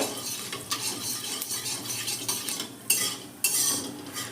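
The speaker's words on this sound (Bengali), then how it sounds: "পাঁচ ফোড়ন আর সর্ষেটা ফোড়ন দিলাম ফোড়নটা একটু ভেজে নেব" Mustard seeds and panch phoron fry in hot oil for a star fruit chutney, a steady crackling sizzle broken by the scrape and clink of a metal spoon stirring against the pan.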